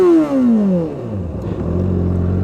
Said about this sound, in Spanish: Y el escape, para hacerle la original, suena bastante bien.